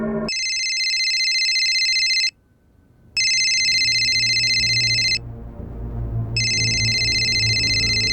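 A phone rings in three long electronic trills separated by short pauses, loud and close, with a low hum underneath.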